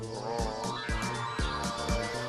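A hacked toy sings a throaty, nasal vowel tone through its small speaker in four quick rhythmic pulses. Each pulse has a sharp low thump at its start, and the sound is fairly quiet and close.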